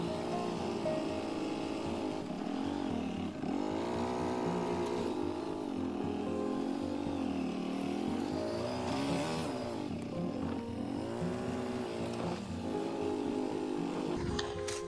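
A four-wheeler ATV engine runs steadily at close range for the whole stretch, its pitch rising and falling through several revs with a continuous droning hum.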